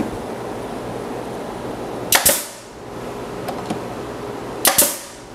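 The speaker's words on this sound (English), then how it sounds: "I probably don't even need any brads, but I'm gonna fire them in anyway out of force of habit" A nail gun drives brads into a small wooden desk box, with two sharp, loud pneumatic snaps a couple of seconds apart over steady workshop hum and a faint tap between them.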